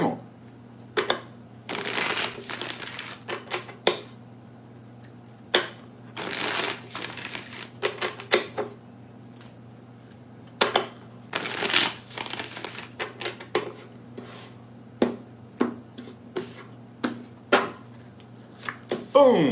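Tarot cards being shuffled by hand, bursts of quick riffling and slapping in repeated rounds, close and fairly quiet, with a person talking in between.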